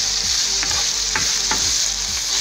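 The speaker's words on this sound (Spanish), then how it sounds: "Ustedes escuchan cómo se está friendo, ¿verdad?" Christmas turkey stuffing fries in a pan on a lowered flame, giving a steady close sizzle with a few soft scraping stirs of a spoon through the mixture.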